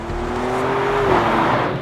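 A Maserati Grecale Trofeo SUV with a 3-litre V6 Nettuno engine drives along, its engine giving a steady droning hum with a slowly rising tone over road noise, heard from inside with no talk.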